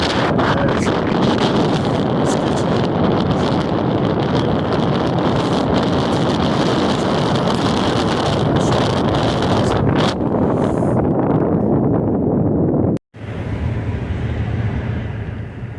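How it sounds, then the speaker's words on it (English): Strong wind roaring across the microphone in a constant heavy rush, briefly cutting out near the end before the gusting resumes, on a Montana roadside during rifle season. "Today's not so cold, just windy as all heck."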